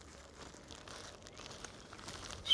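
A plastic bag is worked over an inverted insect sweep net, giving a soft, faint, close-up crinkling that builds slightly toward the end.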